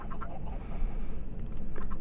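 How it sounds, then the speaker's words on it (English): Chickens in the Minecraft video game cluck in short, repeated bursts over a steady low background, close and fairly loud, with no talking. "and someone turned into baby chickens."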